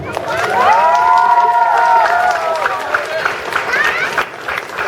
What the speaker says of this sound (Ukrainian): Її оплески, будь ласка